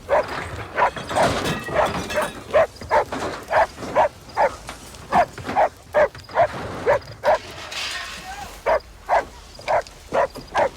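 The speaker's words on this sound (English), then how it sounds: "Walt, you gotta keep that dog quiet." A dog barks and whimpers repeatedly in short, evenly spaced yelps and whines, fairly close and loud, carrying on for several seconds with brief pauses between bursts.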